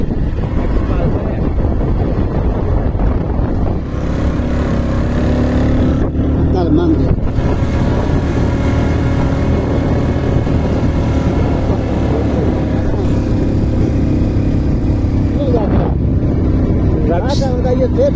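A motorcycle rides downhill on a mountain road near a cement factory conveyor, with a constant engine drone and heavy wind rush throughout and voices talking over it.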